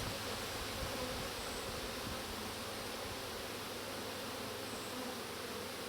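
Steady dense buzzing of honey bees during a full summer hive inspection, an unbroken close hum filling the whole stretch with no talk.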